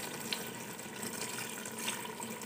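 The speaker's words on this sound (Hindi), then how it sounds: "तो मैं इसमें डालूँगी तकरीबन 1 कप पानी" About a cup of water is poured into a pan of browned biryani base with potatoes, giving a steady, even rushing splash close by that lasts throughout without pause.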